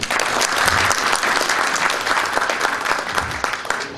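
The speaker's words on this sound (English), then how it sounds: "Just a round of applause." A conference audience gives a speaker on the actuarial profession a round of applause, dense sustained clapping from many hands filling the room for several seconds.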